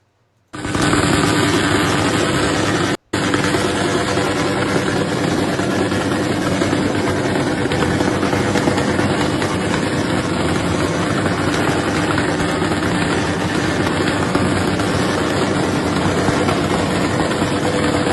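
A makeshift exhaust pipe carries a steady, loud engine idle, a continuous low rumbling drone with one brief cutout early on before it resumes unchanged to the end.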